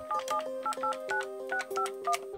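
A telephone number is dialed as a quick series of about a dozen distinct touch-tone beeps in an uneven rhythm, clear and close with near silence between presses.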